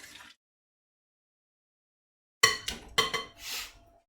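A metal spoon stirs cowboy caviar in a bowl, making a few sharp clinks and scrapes in close succession after a long silence, loud and close, with a brief sound at the very start.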